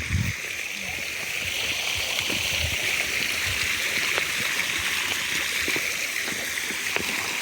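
A cold mountain stream in Meghalaya rushes steadily and loud, a constant broadband wash of flowing water with occasional splashes throughout.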